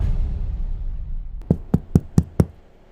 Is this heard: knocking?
yes